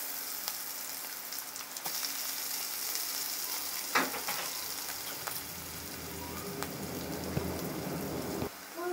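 Black cumin seeds sizzle in a little hot oil, a continuous fine crackling hiss with occasional sharper pops, close and fairly quiet, with no talk.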